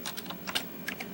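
Keys clatter on a 1987 Commodore Amiga 2000 computer keyboard, a quick series of about half a dozen light, close clicks in an uneven typing rhythm with no voices.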